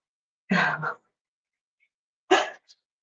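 A puppy being given a treat makes two short, breathy huffing sounds a couple of seconds apart, close by and moderately loud, with no talk in between.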